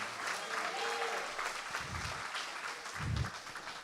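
A church congregation applauds, a steady wash of many hands clapping throughout with a couple of louder low swells, while voices can be heard faintly underneath.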